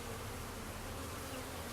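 Honey bees buzzing around a hive, a dense, continuous hum of many wings close by with no pauses.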